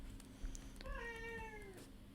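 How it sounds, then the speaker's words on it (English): A house cat gives a single drawn-out meow lasting over a second, close and clear over a steady low room hum, with no talking. "my cat is wanting to make a guest appearance in this video"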